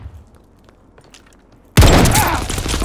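A sudden loud burst of gunshots from a Call of Duty match erupts after a quiet stretch of faint game noise, followed by a dense, sustained barrage of shots and booms.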